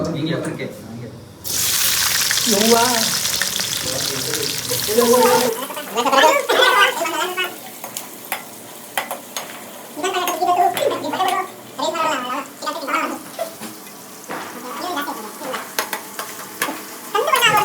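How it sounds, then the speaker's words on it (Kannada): Onions crackling and sizzling loudly in hot oil, a dense close frying hiss with repeated stirring scrapes, and talk heard over it throughout. "ಎಣ್ಣೆ ಒಳಗಡೆ ಹಾಕಿದ್ರೆ ಚಟಾಪಟ ಚಟಾಪಟ ಅನ್ಬೇಕು"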